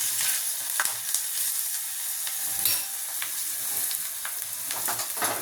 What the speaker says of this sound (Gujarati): આ લીલા મરચાં અને મીઠો લીમડો હલાવી લઈશું.